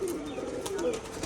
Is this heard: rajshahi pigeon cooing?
yes